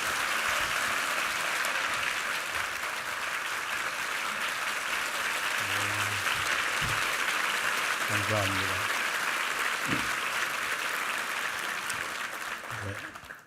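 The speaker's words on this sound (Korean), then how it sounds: "우리 박정근 목사님 한번 박수로 환영해 주십시오" A church congregation at a summer revival service applauds to welcome a visiting retired pastor: dense, sustained clapping fills the room for over ten seconds, with a voice briefly speaking near the end as it fades.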